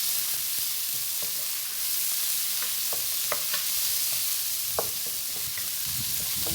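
Marinated minced pork sizzles steadily in a hot pan, with scattered clicks and scrapes of stirring over a continuous frying hiss.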